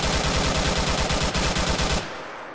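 Rapid automatic gunfire in ArmA 3, a loud close burst of evenly spaced shots for about two seconds, then stopping abruptly with a fading echo.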